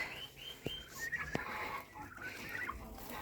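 Turkeys gobble and warble in rapid bursts nearby, with overlapping calls from other fowl, including bantam chickens, in an outdoor farmyard.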